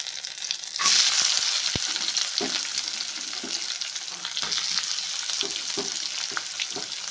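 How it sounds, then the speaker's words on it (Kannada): Chopped onion hits hot oil in a pan with a sudden loud sizzle, then keeps frying steadily with occasional stirring clatters, close and alone, while making a sprouted gram curry. "ಇದಕ್ಕೆ ಉಳ್ಳಾಗಡ್ಡೆ ಹಾಕೋತೀನಿ ನೋಡ್ರಿ ಈಗ"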